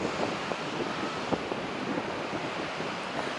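Wind gusting steadily across a clifftop walk on the Baltic Sea coast at Svetlogorsk, a continuous broadband roar buffeting the microphone with small irregular thumps and no voices.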